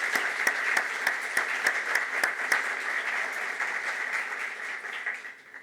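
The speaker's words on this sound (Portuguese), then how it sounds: "Eu peço, por favor, uma salva de palmas para essas empresas." Audience applause for sponsors at a marketing forum panel, a dense steady clapping with some distinct claps near the front, fading toward the end.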